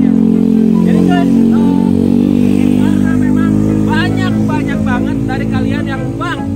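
Honda Supra two-cylinder motorcycle engine running loud and close, a dense low rumble with revving surges, a voice talking over it throughout.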